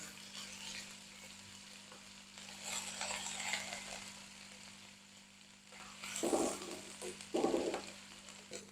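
Steady sizzling of garlic paste frying in hot oil, with a few louder bursts of crackle and stirring near the end.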